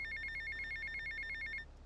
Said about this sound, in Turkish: Bir telefon daha.